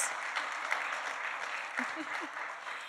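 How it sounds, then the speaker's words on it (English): A city meeting audience claps for volunteer staff, a fairly soft, steady wash of applause heard at a distance with a faint voice murmuring underneath. "give them a round of applause for all of their volunteer"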